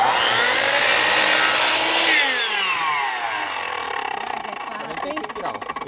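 A power cutter with a disc cuts along a marked line while window frames are fitted, giving a loud, steady, high-pitched grinding whine for about four seconds that eases into a lower, rougher cut near the end.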